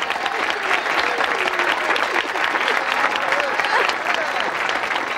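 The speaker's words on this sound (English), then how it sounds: "let's give everyone a big round of applause before we sign off" Dense, steady applause from a crowd at a radio show's Thanksgiving sign-off, loud and continuous throughout, with faint voices mixed into the clapping.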